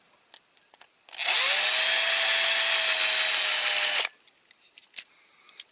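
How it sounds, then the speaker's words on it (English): A power drill runs steadily for about three seconds while working on a Dinky Toys Leyland Forward Control lorry (No. 25R/420) during restoration, a loud continuous whine that starts and stops cleanly, with faint clicks before and after. "That's enough drilling."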